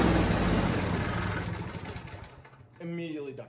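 A John Deere lawn tractor's small engine idles with a steady, close mechanical rumble that weakens and thins before a voice begins speaking at the end.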